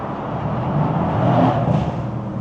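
A tuned stage 2 Mercedes C43 AMG engine revs hard inside a tunnel, a loud, sustained rumbling roar that swells slightly midway and stays close and reverberant throughout.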